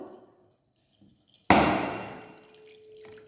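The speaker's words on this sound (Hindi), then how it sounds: "इस नॉब को ऑन करो, ठीक है, पानी गिरता रहेगा" A tap on a resonance tube apparatus is opened and water suddenly gushes and splashes into the tube, then keeps running steadily, following a near-silent moment.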